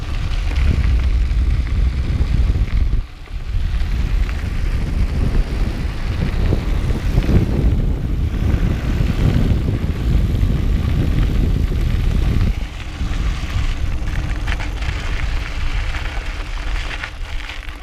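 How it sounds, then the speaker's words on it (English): A SmartMotion Catalyst e-bike rolls over gravel, tyres giving a loud, continuous crunching rumble mixed with wind buffeting, with a brief dip near the start and a drop in intensity late on; no one speaks. "Maybe hard to tell with the sound of gravel in the background"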